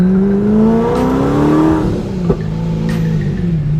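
A loud V8 engine in a C6 Corvette with a Billy Boat PRT axle-back exhaust drones and revs under load, its deep exhaust note rising and falling steadily, close and continuous.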